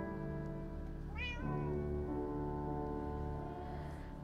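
A Minecraft cat meows once with a short rising cry, clear and fairly near against a steady background of game music, with no talking.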